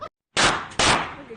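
Two sharp, loud AR-15 rifle shots fired close by outdoors, one after a short pause, each cracking and then decaying quickly.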